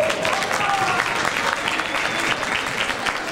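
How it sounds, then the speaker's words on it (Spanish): A crowd at a handprint ceremony for an actor at Galerías Plaza de las Estrellas bursts into loud, sustained applause, a dense wash of clapping that carries evenly from start to finish. "les doy un agradecimiento y un fuerte aplauso por estar aquí"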